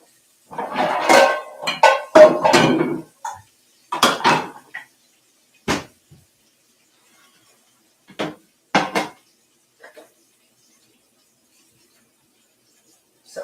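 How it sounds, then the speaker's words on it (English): A small pan is pulled out and set down in a home kitchen, giving several sharp metallic clanks and knocks, spaced apart and fairly close, with no one talking. "I'm going to get my little pan out"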